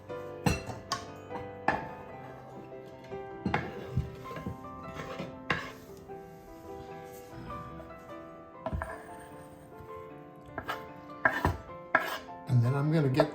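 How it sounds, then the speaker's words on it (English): Knife chopping big chunks of corn on a cutting board for corn salsa, irregular sharp knocks with kitchen clatter between them, close and moderately loud. "I'll chop up those big corn chunks"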